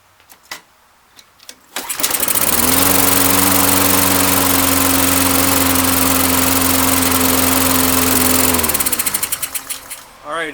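An old Honda push mower engine that has sat for years fires after a few pulls and runs loud and close, holding a steady roar with a slightly uneven, rough edge before cutting out and sputtering down.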